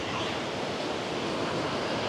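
Water pours through the open spillway gates of the Srisailam dam in a steady, dense roar that stays loud and unbroken throughout, with no voices.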